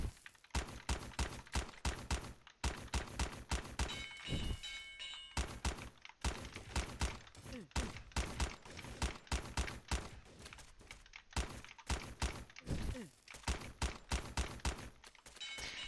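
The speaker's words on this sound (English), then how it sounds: "That's all you have to do is spam with this gun." A Dragon Rifle fires in Graal Online Era, rapid repeated shots spammed in quick bursts, each crack sharp and punchy, continuing throughout with brief pauses between volleys.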